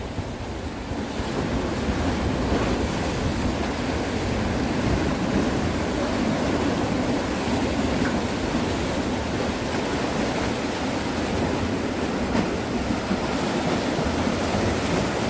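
Ocean waves at Ingu harbor crash continuously against rocks and concrete tetrapods, a loud, dense surf roar mixed with wind buffeting the microphone throughout.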